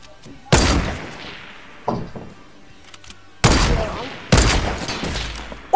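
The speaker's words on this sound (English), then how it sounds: "Ooh, that was a dirty snipe I just hit." Sharp gunshot cracks from a Fortnite match, the first loud report standing alone, followed by a quieter shot and two more heavy blasts in quick succession, each trailing off with echo.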